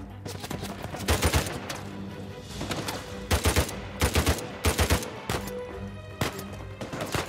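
Gunfire in the video game Uncharted 4, bursts of rapid automatic shots in clusters with short gaps between them, moderately loud.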